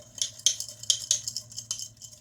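A utensil scrapes and clinks against a bowl while stirring sugar into homemade mayonnaise, a quick run of rhythmic metallic taps and scrapes heard up close with no talking.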